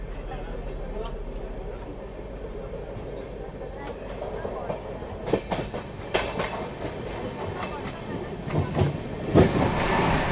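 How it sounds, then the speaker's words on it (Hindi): Mahabodhi Express train racing at high speed between SSM and DDU on the Gaya section, a steady loud rumble of rolling stock with clickety-clack wheel beats and occasional sharper clanks, heard from inside the coach with a person talking. "अपनी महाबोधि एक्सप्रेस ज़बरदस्त रफ्तार में भाग रही है।"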